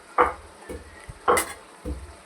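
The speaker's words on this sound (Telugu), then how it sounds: "కొంచెం పట్ట ధనియాలు వేయించుకోవాలి" Cinnamon and coriander seeds dry-roasting in a pan, heard as four or five short, close scraping and rattling strokes of a spoon stirring them, spaced about half a second apart.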